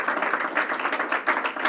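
A room full of people at a governor's COVID-19 briefing gives ECMC hospital staff a round of applause, dense continuous clapping at moderate loudness with no speech.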